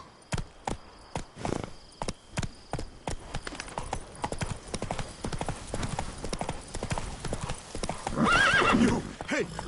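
Roach, a horse in The Witcher 3, gallops with rapid rhythmic hoofbeats close by, then lets out a whinny near the end, with faint voices and game sounds mixed in.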